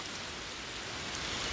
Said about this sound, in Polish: Zobaczcie, jak lunęło.